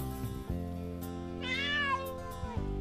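Cartoon kitten meowing: a single drawn-out, high-pitched mew over soft background music, close and clear with no speech.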